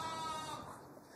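A sheep gives a single wavering bleat, held for about a second and fading out, fairly faint and alone.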